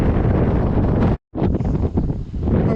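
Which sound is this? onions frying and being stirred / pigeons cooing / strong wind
strong wind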